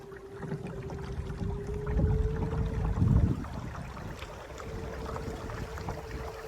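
A skiff's outboard motor runs at about 30% throttle on open water, giving a steady drone under wind noise and splashing, mid-distance and moderately loud, with no talking.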